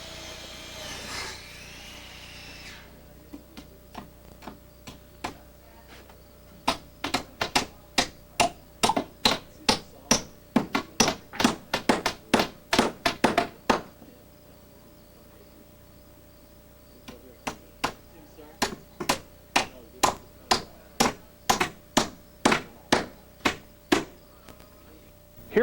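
Wooden roof rafters being cut with a compound miter saw and secured during house framing: long bursts of rapid, sharp repeated strikes, loud and close, separated by a quiet pause and a short whirring start.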